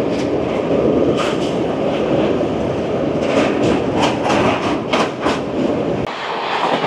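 Amrit Bharat Express, train no. 12804 between Malda and Bangalore, running on the rails near the wide Godavari river: a steady, loud rumble of the coach with repeated rhythmic wheel clacks, heard from inside, alone with no voices.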